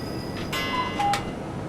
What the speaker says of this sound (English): Did you hear my cuckoo clock?